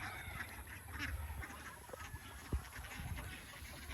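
Quacking and honking from a male duck among farm ducks and fowl kept as backyard pets, mixed with faint rustling and background noise, calls soft and intermittent rather than close and loud.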